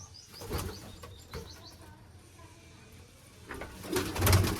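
Pigeons kept in a coop give scattered coos and chirps, with brief wing flaps, growing busier and louder toward the end.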